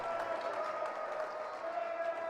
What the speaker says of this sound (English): Trevor Paul gets a round of applause from the hometown fans here at Huntington Hills